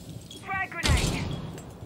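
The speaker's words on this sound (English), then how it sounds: "There's a nade, there's a second nade." A frag grenade in a tactical shooter explodes with a sharp, heavy thud and a short rumbling tail, following brief clicks, with commentators talking around it.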